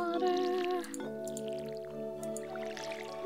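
Water splashes and drips in Stardew Valley as a watering can is used, a wet, squishy pour over a steady musical background, close and clear with no talking.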